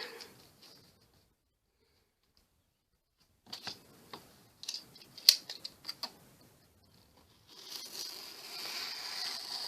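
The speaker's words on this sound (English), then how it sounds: "Alright, so let's cut this." Scissors snip through a trash journal with staple-free pages, a quiet cluster of sharp clicks and cuts in the middle, then a soft rustling hiss, close and alone.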